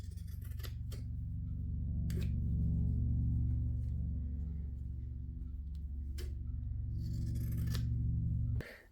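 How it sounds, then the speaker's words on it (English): Scissors trim the sewn seams of fabric pieces for a durag or skull cap, giving a few sharp close snips spaced over a steady low hum. "Once you've sewn these together, trim the seams."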